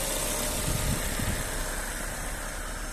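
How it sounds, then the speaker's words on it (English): A 2009 Vauxhall Zafira 1.6 petrol seven-seater idling smoothly, a low, steady engine hum with faint mechanical vibration, a couple of soft low thumps early on, heard close with no talking. "engine sound very nice and smooth"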